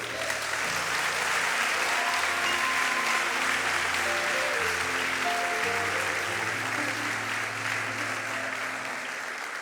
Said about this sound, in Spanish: Aplaude más fuerte.